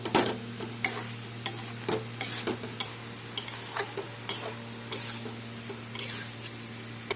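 Fried jackfruit and liver being sautéed together in a pan, with a steady low sizzle under repeated scraping, stirring strokes of a utensil at an uneven rhythm, close and fairly loud.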